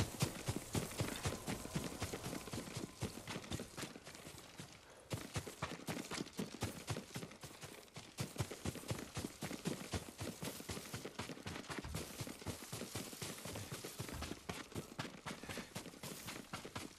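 Horse hooves clip-clop steadily in the video game Ghost of Tsushima, a continuous, evenly paced rhythm of hoofbeats on the ground, fairly close, with no voices over it.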